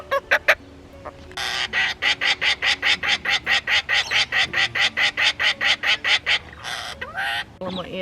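A parrot on a Murray River trip in Australia lets out a fast run of about twenty harsh, honking squawks in a steady rhythm, loud and close, with a few sharper cries before and after.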